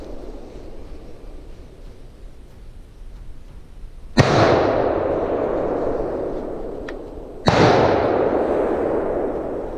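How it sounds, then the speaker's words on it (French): Two loud, sharp rifle shots ring out during a wild boar driven hunt, several seconds apart, each followed by a long echoing tail over quiet outdoor background. "Il tire une balle et on voit bien que l'animal a une drôle de réaction."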